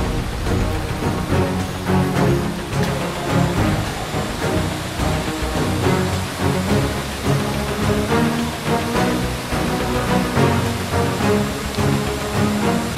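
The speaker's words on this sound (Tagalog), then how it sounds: "Umuulan na." Rain pours down steadily near a waterfall in Laguna, a dense, even hiss that stays loud and unbroken with no voices heard.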